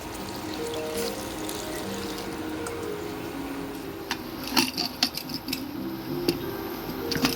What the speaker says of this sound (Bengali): ওপর দিয়ে আমি একটু অল্প করে জল দিয়ে দিচ্ছি।